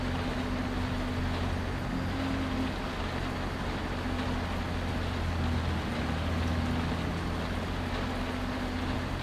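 A farm tractor engine runs steadily at idle, a continuous low rumbling drone that stays close and even throughout with no talking.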